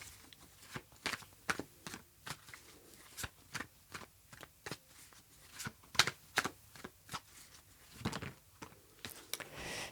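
A tarot card deck being shuffled in a quiet room: irregular crisp riffles and slaps of cards, close and fairly soft, with no talking over them.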